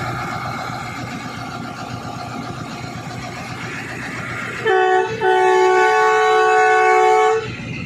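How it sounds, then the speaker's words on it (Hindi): Train departure whistle at Taxila railway station, where the Thall Express stands at the platform: one steady, loud, sustained tone that stops briefly and resumes, over a background of station and train noise. "पहला विसल हो गया जी, डिपार्चर विसल इसको कहते हैं।"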